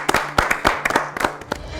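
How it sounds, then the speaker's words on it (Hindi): An audience at a history quiz show claps for a winning team: a burst of sharp, distinct hand claps from a smallish group, close and fairly loud, uneven in rhythm over about two seconds. "जोरदार ताली।"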